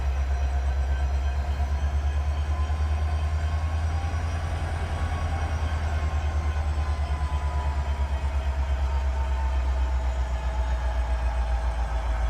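An HO scale model freight train heads back onto the main line with a continuous close motor drone and a fast, even rhythmic clicking of wheels that holds steady from start to finish.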